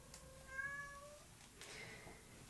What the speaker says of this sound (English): the cat's crying